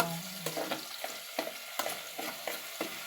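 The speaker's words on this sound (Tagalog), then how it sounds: "Lalagay na po natin ang Bituka." Tilapia intestines are stirred into browned onion, garlic and ginger in a hot pan, giving a quiet sizzle broken by repeated soft scraping stir strokes at a fairly regular rhythm, with no talk.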